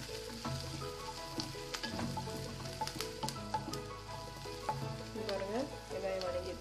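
Onions fry in oil until transparent for kothavarangai poriyal, a soft continuous sizzle with occasional stirring beneath prominent tonal background music.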